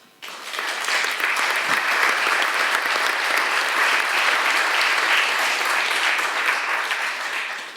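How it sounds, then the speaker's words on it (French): Audience applause after a round-table panel on vaping and public health, a dense, steady clapping that starts abruptly and holds evenly for several seconds before tapering. "je pense qu'il y a derrière ces applaudissements beaucoup de questions rentrées"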